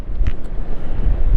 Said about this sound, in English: Again, it's windy.